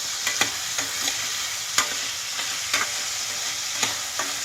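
Food frying in a pan gives a steady close sizzle, with occasional sharp clicks and scrapes of a utensil as it is stirred; no one talks.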